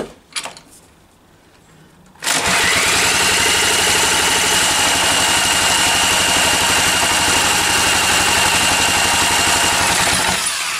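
An old mystery petrol engine with a poorly fuelling carburettor catches after a few seconds of quiet handling noises, then runs loud and steady at a rough idle very close by until the end, with no talking.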